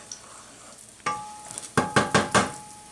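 Garlic cooking in a pan, a faint quiet stretch giving way to a sudden sizzle at one second, then a few loud scraping stirs of a utensil against the pan over steady frying.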